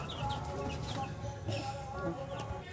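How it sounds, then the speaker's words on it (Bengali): Pet chickens cluck faintly from a rooftop view, with a few soft short clucks scattered through a murky background of distant voices and ambient noise. "এই দেখো কটা মুরগি পুষেছে, কটা মুরগি পুষেছে দেখো।"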